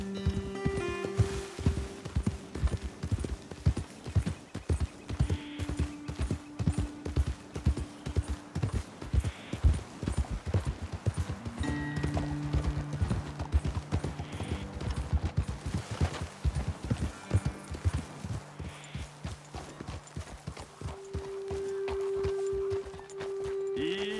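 Horse hooves clip-clop at a steady walking rhythm on a trail in Red Dead Redemption 2, with a pair of horses close and clear throughout, riders occasionally speaking and low music underneath.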